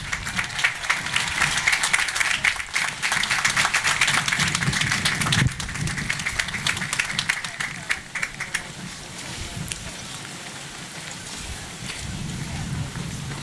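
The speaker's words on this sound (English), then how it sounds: "let's give them another round of applause" A school choir gets applause at an outdoor Memorial Day ceremony, with moderate, dense clapping that thins out after several seconds while voices murmur underneath.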